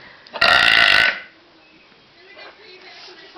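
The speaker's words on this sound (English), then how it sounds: "we're gonna annoy them by burping" A single loud, long burp from a camper, close and harsh for about half a second, followed by quiet voices talking in the background.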